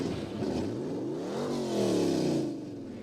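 A cheap car's engine in a video game revs up and then settles, its pitch sweeping upward and falling back in a steady, close, loud drone with no talking.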